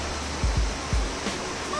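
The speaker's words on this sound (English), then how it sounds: "listening to the sound of the water" Steady flowing water in a quiet hot spring town in Japan, a constant close rushing wash with a few soft low thumps partway through, no voices.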